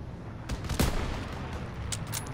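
Gunfire in the World War II shooter Call of Duty WW2 during a firefight near a church, a few sharp loud shots cracking over a steady noisy battle background.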